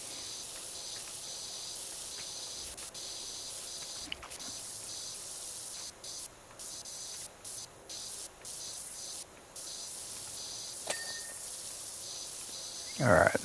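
Pressure washer spraying in PowerWash Simulator 2: a continuous hissing spray with several short cutoffs where the nozzle stops and restarts, ending in a louder burst.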